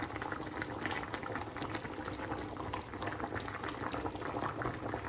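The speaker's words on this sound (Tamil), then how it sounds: "வாவ், நல்லா கொதிக்குது." A pot of liquid bubbles at a rolling boil on a home stove, a dense continuous gurgling and popping heard close and steady throughout, with no talking.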